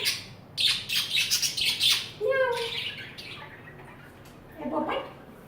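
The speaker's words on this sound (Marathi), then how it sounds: "पोपट" A pet parrot at home gives a few harsh squawks followed by a rapid falling series of chirps, fairly close and moderately loud, with a voice faintly heard in the background.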